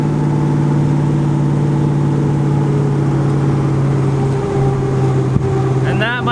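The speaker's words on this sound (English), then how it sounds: "That's burnout." A steady engine drone with a constant high whine from a car's tire burnout at a drag racing event, loud and close, with a faint voice rising near the end.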